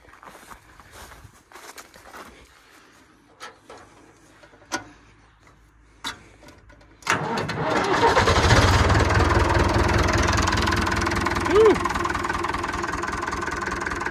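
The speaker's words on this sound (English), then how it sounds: "So let's fire up the tractor and see what we can do to help." An old David Brown tractor engine cranks and catches after a few ticks and clunks, then settles into a loud, rough, steady idle close by.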